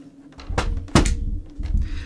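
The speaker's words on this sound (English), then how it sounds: "There's stuff rattling around the inside of it." A loose game console being shaken with parts knocking around inside, giving a few dull thunks and short rattling bursts, close and moderately loud with no talk.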